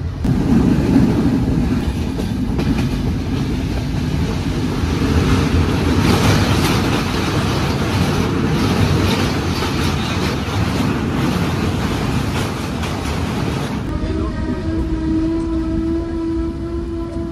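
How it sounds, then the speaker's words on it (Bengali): Dhumketu Express intercity train running between stations, a steady loud rumble of wheels and carriages with rhythmic clatter throughout, shifting near the end to a smoother tone with a sustained whine. "আমাদের ট্রেনটি পরবর্তী গন্তব্যস্থল বড়াল ব্রিজের উদ্দেশ্যে ছেড়ে যায়"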